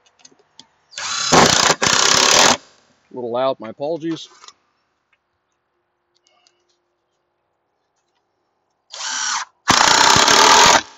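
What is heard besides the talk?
power drill driving recycled wood screws into tabletop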